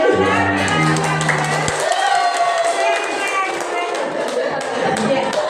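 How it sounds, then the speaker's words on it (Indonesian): Pupils in a classroom clap their hands in a quick burst mixed with crowd noise, while voices talk over and around the clapping. "Tepuk tangan"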